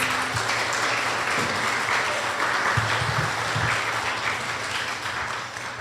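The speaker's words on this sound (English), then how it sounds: "let's give our contestants another round of applause" Sustained applause from an audience at a youth oratorical contest, steady and full for several seconds with a few louder claps rising out of the wash of clapping.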